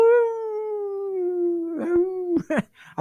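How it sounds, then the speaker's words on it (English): A pet beagle lets out one long, steady howl that slowly drops in pitch over a couple of seconds, close and loud, followed by a few short yelps and whimpers at the end. "Anyone who's ever had a beagle will tell you this. They howl."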